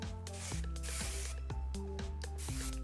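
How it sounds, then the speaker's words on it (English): A few quick hisses of thermal protectant spray misted onto hair before heat styling, close and soft over steady background music. "Just gonna spray."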